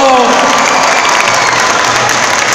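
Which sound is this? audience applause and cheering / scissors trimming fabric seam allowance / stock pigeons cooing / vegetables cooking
audience applause and cheering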